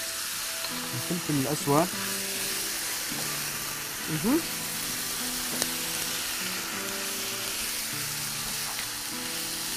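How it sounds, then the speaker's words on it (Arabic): Meat frying in olive oil in a home kitchen pan, a steady close sizzle and hiss running throughout, with stirring noises and someone talking over it at moments. "هلا عم تقليها بزيت زيتون"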